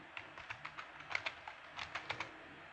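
Keys clatter on a computer keyboard as a name is typed into code documentation, a quick irregular run of light, close clicks with brief pauses and no talk.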